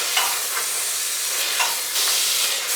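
Soaked rajma (kidney beans) sautéing in spices in a pressure cooker, a loud continuous close sizzle with brief scraping stirs rising out of it every second or so.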